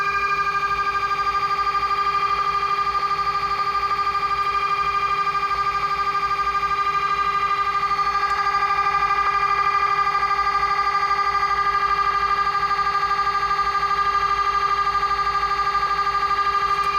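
Analog TV station audio received over the air with a HackRF software radio: a constant, unbroken tone made of several steady pitches over a low hiss, loud and unchanging throughout with no voices.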